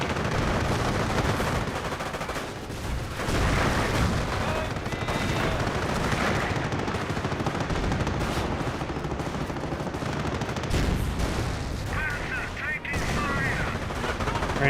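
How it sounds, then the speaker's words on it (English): Rangers firing guns during a Company of Heroes battle: dense, continuous rattling gunfire and bursts, loud and unbroken throughout, with overlapping shots at varying distances. "Ranger still firing away."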